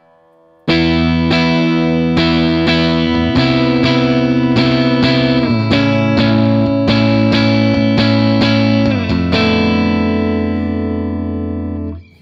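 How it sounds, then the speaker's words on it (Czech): Epiphone Jerry Cantrell Prophecy Les Paul Custom electric guitar on the neck pickup through a clean Blackstar combo amp with a little reverb, a chordal passage of steady strummed strikes ringing out loud, ending on a sustained chord that fades. "Kytaru si pojďme poslechnout, mám tady kombo Blackstar s čistým zvukem, korekce má narovno trochu reverbu."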